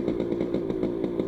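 An old Yamaha motorcycle engine throbs steadily up close while riding on a rough, damaged road, its exhaust pulsing in a regular rhythm with a slight clattering roughness.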